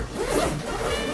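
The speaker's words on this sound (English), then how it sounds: "Zipper." Zipper on a paintball gear bag being pulled open in one quick, close rasping stroke.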